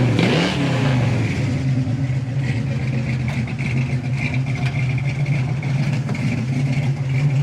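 A 1966 Ford Mustang Coupe on a test drive: a steady, close engine drone with a brief rev at the start, then a sustained even hum under load.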